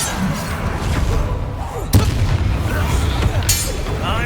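Descendo spell slamming a target down in the Hogwarts Legacy video game, with a heavy booming impact amid continuous dense combat noise and rumbling effects.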